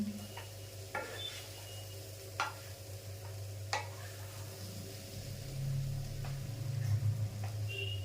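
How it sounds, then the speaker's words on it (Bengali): Mashed potato is stirred with spices in a pan, quiet scraping and dull knocking strokes at an irregular pace, with a faint sizzle and a steady low kitchen hum underneath. "আলুটা খুব ভালো মতন মিশিয়ে নিতে হবে সব মশলার সঙ্গে।"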